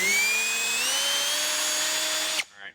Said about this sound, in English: So we're gonna try and drill this out a little bit and try and run that tap through it.